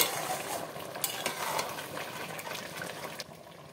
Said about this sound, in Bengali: দিয়ে দেবো গরম জল সেদ্ধ হওয়ার জন্য